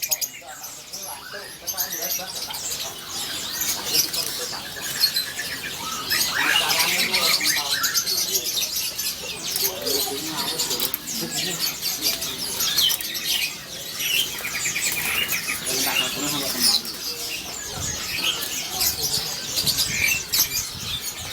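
Caged birds at a bird market with old wooden cages chirp and tweet continuously, a dense bright chorus of many small calls layered over a busy crowd with people talking nearby.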